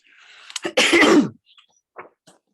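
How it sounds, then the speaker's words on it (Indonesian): A burst of harsh coughing up close, one heavy explosive cough followed by a couple of small, quieter throat sounds. "Sorry, saya sedang batuk."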